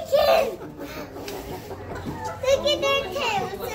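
Chickens clucking nearby, short loud bursts mixed with children's excited voices talking and calling out over them.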